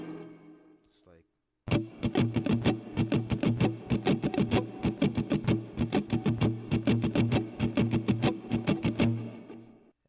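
Electric guitar strumming a chord in a steady, even down-up rhythm, loud and close, after a brief quiet lead-in with a few picked notes.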